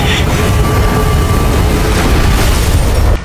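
A thunderous explosion from two clashing energies of different elements, a roaring blast that rumbles on steadily for about three seconds without letting up.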